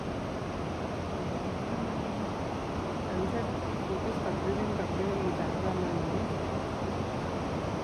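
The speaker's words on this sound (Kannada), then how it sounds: "ಏನು ಸೌಂಡ್ ಬರ್ತಾಯಿದೆ ನೀನು ನೋಡಿ ನೀರು ಫುಲ್ ಹರಿತಾ ಇದೆ" A strong, steady rush of flowing water fills the scene, a constant roar with faint voices murmuring underneath.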